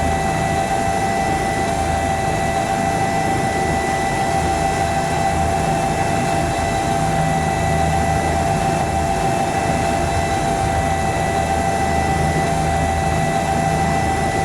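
Simulated Bell 206 helicopter in X-Plane climbing toward a hillside helipad above an airport, a steady droning rotor and engine hum holding at even loudness throughout, with no talking.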